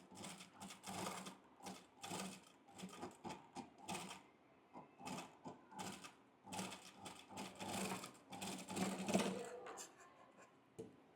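A sewing machine stitches a corset top in short, stop-start runs of quick mechanical whirring and clatter, close up, broken by small gaps and handling noises.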